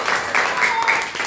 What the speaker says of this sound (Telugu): వెరీ గుడ్, క్లాప్స్ కొట్టండి వీళ్ళకి అందరూ.